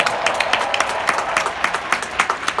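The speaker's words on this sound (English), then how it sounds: "Let's clap for that, Michael Jordan." A crowd claps steadily, a dense patter of many hands, moderately loud and continuous without any voices.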